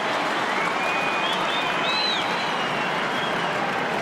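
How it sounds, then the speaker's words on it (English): Hawks fans cheering behind the goals at a 2012 Round 18 Australian football match against Essendon; a dense, steady roar of the stadium crowd with whistles rising above it, continuous and loud. "The Hawks fans behind the goals, they cheer on."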